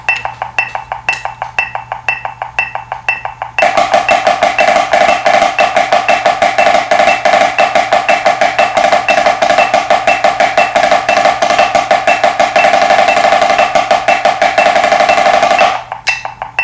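A fast, even drum triplet roll rudiment, loud and close, running continuously for several seconds before stopping.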